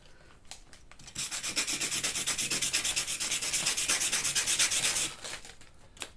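A part from a Tamiya Neo Fighter buggy kit is rubbed flat on sandpaper in rapid, even back-and-forth strokes, close and fairly loud for several seconds, with no talk.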